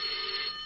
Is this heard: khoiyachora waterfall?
no